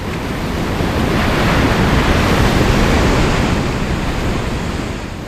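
Ocean waves break and wash ashore in a broad, loud roar of surf that swells and then eases slightly, with some wind rumble on the microphone and no voices.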